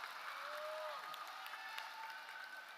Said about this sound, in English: Let's give these scholars an applause and a commemoration of cheer for even making it to graduation.